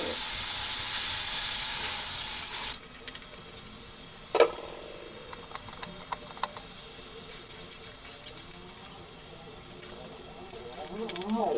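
Green beans and flat beans hiss steadily in a hot pan, with a loud spray-like sizzle at first that settles into quieter crackling and a few small pops.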